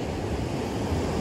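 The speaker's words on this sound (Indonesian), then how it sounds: "ombaknya semakin naik kan" Ocean waves wash onto Legian beach in Bali as a steady broadband roar of surf mixed with wind, continuous and moderately loud, no voices.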